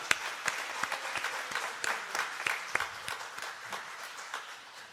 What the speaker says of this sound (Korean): 우리 주님께 영광의 박수 올리겠습니다.